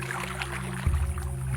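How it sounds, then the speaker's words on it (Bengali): Oars pull a small wooden boat out to the middle of a river, with soft water swishes followed by a deeper splash-and-thud stroke partway through, then continued gentle lapping. "এরপর দাঁড় টেনে নৌকাটি মাঝ নদীতে নিয়ে গিয়ে থামালো।"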